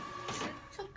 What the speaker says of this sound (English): he checked the printer to make sure it's on the printing invoice paper